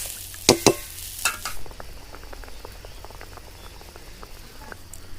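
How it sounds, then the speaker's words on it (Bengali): Curry broth with sour mango bubbling at a boil in a pot, a steady fine crackle of popping bubbles after a few sharp clanks of a utensil at the start. "ঝোলটি ফুটে উঠেছে"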